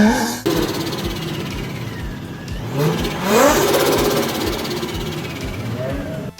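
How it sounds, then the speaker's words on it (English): Turbocharged car engine revving close by with a rising turbo spool whistle as the revs climb, then easing back to a rough rumble; a voice talks over it. "Turbos make some wicked noises."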